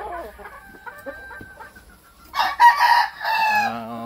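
A rooster crows loudly and close by after some quieter clucking and rustling from hens, the crow rising and trailing off over a couple of seconds.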